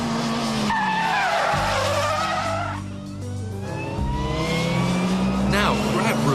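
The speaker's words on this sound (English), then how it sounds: "You must build up your speed before flicking the steering wheel and then pulling on the handbrake." Ford Puma drifting with the handbrake, tyres skidding and squealing in long sliding bursts as the engine revs rise and fall, loud and close, with an instructor's voice over the top.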